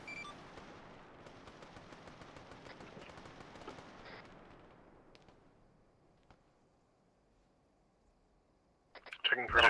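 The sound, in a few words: autocannon firing 50 rounds in a video game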